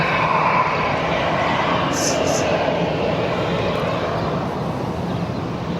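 A 31-year-old Air France Airbus A321 departing Barcelona, heard as a sustained, moderately loud jet rumble and hiss that holds steady throughout, with a brief higher whine partway through.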